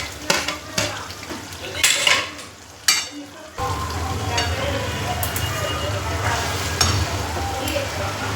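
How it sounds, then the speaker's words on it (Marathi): Peas and cauliflower drop into a hot frying pan with a sudden sizzle, followed by continuous frying hiss, scraping stirs and occasional clinks of a spoon against the pan, close and fairly loud. "बस वाटाणा कोबी ते टाकायचं याच्यामध्ये."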